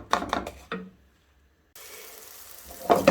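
Apples caramelizing in butter in a pan give off a steady, close frying sizzle that rises after a brief pause and keeps a hissing texture, with a few short clatters at the start.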